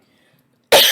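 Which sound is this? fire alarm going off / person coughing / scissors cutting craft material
person coughing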